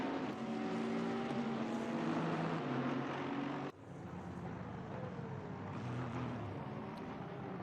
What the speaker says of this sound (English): I think I hear a car off the track.